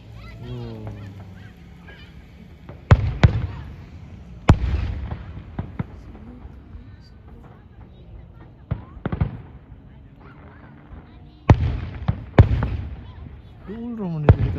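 Fireworks display booming in repeated sharp bangs, some in quick pairs and clusters spread across the stretch, loud and fairly close, with people talking between the blasts.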